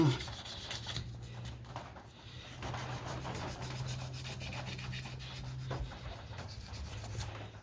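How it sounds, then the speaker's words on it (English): A broken steel part from a Briggs & Stratton Quantum lawn mower being rubbed with sandpaper, a continuous close abrasive scraping in rapid back-and-forth strokes, with no speech over it. "Give it another bit of rub with a bit of sandpaper."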